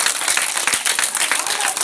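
A church congregation claps hard at a service, a dense, loud, steady patter of many hands right up close, with voices mixed into the noise.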